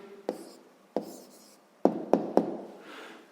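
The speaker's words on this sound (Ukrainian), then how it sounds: "записуємо відповідь" A pen or pencil writing down a sixth-grade math answer on paper, several short sharp taps and strokes with quiet pauses between them.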